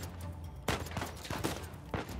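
Gunfire in the Uncharted 4: A Thief's End video game, with several sharp shots in quick succession over a steady background hum, no talk.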